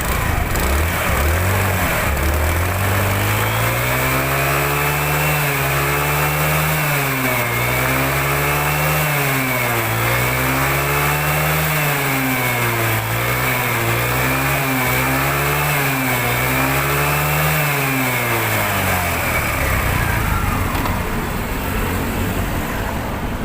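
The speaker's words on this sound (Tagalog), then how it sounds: "So parinig ko muna sa inyo na umaandar na yung motor." A repaired motorcycle engine runs steadily after a CDI socket fault was fixed, a loud continuous drone close by that rises and falls in pitch over and over as the throttle is revved, with no talk over it.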